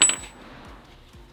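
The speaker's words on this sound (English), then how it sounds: "Did the bearings just fall right out?" Small metal bearings dropping out of a Nissan S13 240SX suspension part during a rebuild: a sharp metallic clink at the start followed by a few soft rolling rattles and taps, close and fairly quiet.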